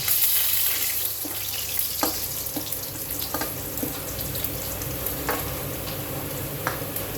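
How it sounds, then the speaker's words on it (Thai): Garlic stir-frying in a pan for a pork rib and pork belly dish, a steady close sizzle with occasional spatula scrapes and taps against the pan. "ผัดกระเทียมให้หอมๆก่อนนะคะ"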